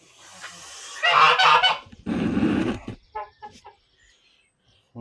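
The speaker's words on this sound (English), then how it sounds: "We have geese." Geese honk loudly and close by in two strong bursts, followed by a few fainter scattered calls from the flock, with a quieter bird-like sound at the start.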